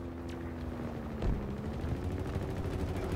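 Bursts of gunfire in an online multiplayer video game ring out at moderate level amid ambient game noise, with a sharper shot-like thump partway through.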